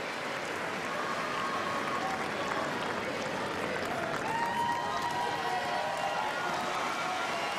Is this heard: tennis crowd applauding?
yes